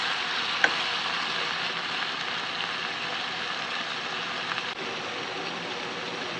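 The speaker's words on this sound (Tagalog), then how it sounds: "Yan, igisa lang natin." Chicken liver sautés in a pan for chicken igado, giving off a steady, continuous sizzle at close range that holds evenly throughout with no talking.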